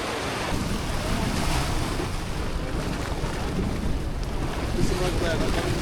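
Rough sea water slaps and churns around a small fishing boat off Anglesey in the Menai Straits, a steady broadband wash of waves with wind buffeting the microphone throughout, close and continuous.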